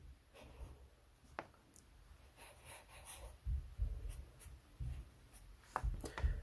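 Pen writing out conditions by hand on paper: faint scratchy strokes and taps come in irregular bursts, close and quiet, growing busier toward the end, alone without talk.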